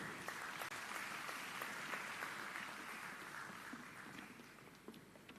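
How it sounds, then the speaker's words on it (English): Sustained audience applause at a university graduation ceremony, a broad steady wash of many hands clapping throughout that fades slightly toward the end. "Let's put our hands together and give them a round of applause."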